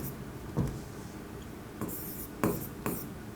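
Pen scratching numbers onto paper by hand: faint, soft strokes with a few short, slightly sharper scrapes over a quiet background hiss.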